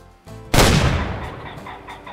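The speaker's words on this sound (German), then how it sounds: "Muss mich da erst so ein bisschen reinfuchsen in das Schießen mit der Schrotflinte." In the hunting video game Way of the Hunter, a shotgun fires once at a pheasant, a sudden loud blast that decays into a fading echo, with faint bird clucking before and after it.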